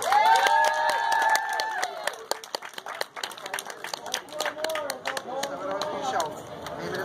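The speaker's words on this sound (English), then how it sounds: "give a warm round of applause for Mr. Mel Groves." An audience claps in scattered bursts for a student speaker being introduced, mixed with whoops and chatter from the crowd.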